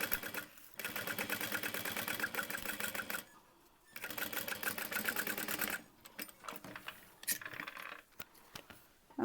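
A sewing machine stitching a bag seam on a crossbody bag, running in sustained buzzing bursts with short pauses between runs, close and steady with no talk.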